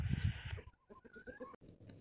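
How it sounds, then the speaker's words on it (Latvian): Free-range laying hens out on the grass give a few soft clucks and short calls, moderately close, after a brief burst of rustling and scratching at the start. "Vistas brīvībā."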